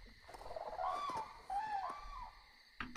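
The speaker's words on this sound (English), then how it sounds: "What was that? Birds?" Several bird calls outdoors at night, tonal cooing or hooting notes repeating at a moderate distance over a steady background hiss, followed by a brief rustling burst.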